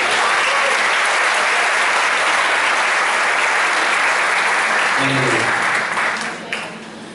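A church congregation applauding during a worship service, a thick continuous roar of clapping that holds steady and then thins and fades toward the end.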